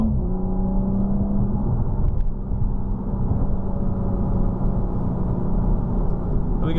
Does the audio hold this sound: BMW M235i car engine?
yes